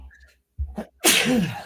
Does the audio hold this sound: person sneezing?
yes